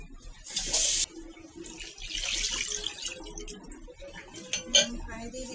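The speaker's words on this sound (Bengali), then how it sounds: "পানি দিয়ে দিচ্ছি কষানোর জন্য।" Water is poured into a pan of fish and potatoes coated with turmeric, chili powder and oil. A short rushing splash is followed by clinking pots and utensils and soft kitchen noise.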